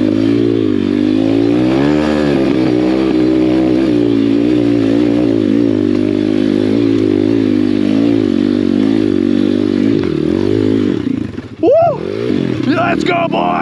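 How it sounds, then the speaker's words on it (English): An Apollo pit bike engine revs and labours continuously while riding through snow, loud and close with shifting pitch, then dips briefly near the end before picking back up. "do you guys take your dirt bikes? Your Apollo pit bike out in the snow"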